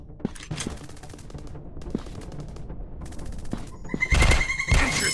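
Gunfire in a PUBG-style first-person shooter game: scattered single shots at first, then loud rapid bursts toward the end.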